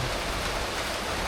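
Heavy rain pouring steadily as a dense, close hiss with no break, outdoors in Finland during a blueberry-picking outing.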